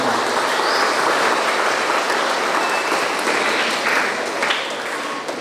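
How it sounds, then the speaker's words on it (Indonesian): A church congregation applauding the choir at a first Mass, dense sustained clapping from many hands filling the room, loud and steady before tapering slightly at the end. "Mari kita berikan tepuk tangan."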